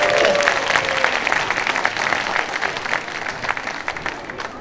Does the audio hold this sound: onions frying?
no